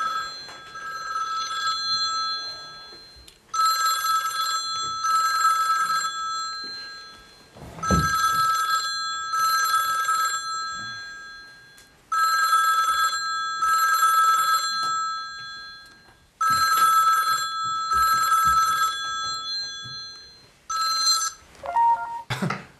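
A telephone rings in an office during a meeting. Loud electronic double rings repeat in regular bursts with short gaps between them, close and clear.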